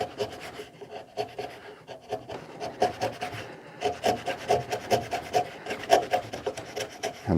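A chisel pares wood for a cross halving joint, making close, repeated rasping scrapes in quick irregular strokes with short pauses between bursts.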